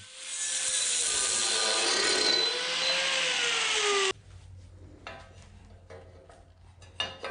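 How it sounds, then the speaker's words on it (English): A bandsaw in a machine shop cuts a steel round tube to length, giving a loud, steady screeching whine for about four seconds. The cut then ends abruptly and quieter shop clatter follows. "I used the bandsaw in the machine shop to cut the end of the tube to length"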